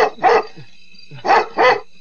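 A dog gives two pairs of loud, close barks, separated by a short pause, with no voices in between.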